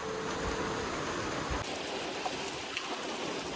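Heavy rain falls outdoors as a steady, dense hiss of drops on surfaces, constant throughout, with no talk.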